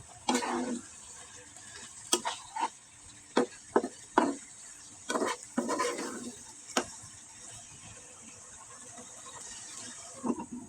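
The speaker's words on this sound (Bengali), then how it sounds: "এখন নেড়ে চেড়ে মশলার সাথে মিশিয়ে দিব" Rohu fish with radish greens, green chillies and spices being stirred in a pan: a quiet scrape-and-clatter of spoon strokes in short irregular bursts, close by, over a low steady background hiss with no talking.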